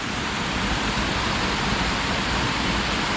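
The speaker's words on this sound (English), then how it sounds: "it's a nice little waterfall too" A small waterfall on the Delatite Trail pours over slippery rocks into a creek pool, a steady, dense rush of falling water up close, loud and unbroken, with no voices.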